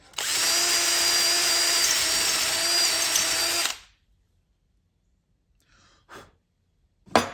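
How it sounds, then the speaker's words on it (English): A power drill bores a pilot hole through a Ford Pinto rear axle during a 4-to-5 lug conversion. It gives a loud, steady, close whine for nearly four seconds, then stops, followed by breathing and a sigh. "This one I drilled the pilot hole all the way through."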